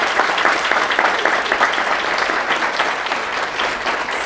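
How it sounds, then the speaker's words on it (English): Warm applause from a crowd gathered for a plant swap in New York City, dense and steady clapping that fills the space at a moderate distance with no break. "one more round of applause for these wonderful folks"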